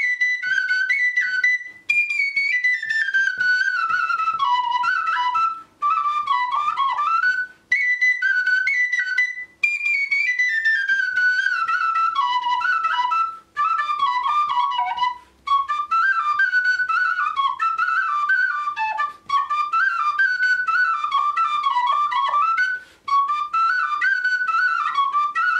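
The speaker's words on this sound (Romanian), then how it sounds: "Cântați-ne la fluier" A fluier, the Romanian folk shepherd's flute, plays a lively, ornamented melody up close, with quick trills and descending runs in repeated phrases separated by short breaths, with no talking.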